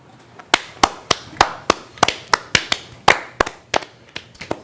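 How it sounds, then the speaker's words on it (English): A few people clap feebly in a sparse, uneven run of about fifteen separate, sharp hand claps, close by and fairly loud, with no talking. "rubbish attempt at an applause."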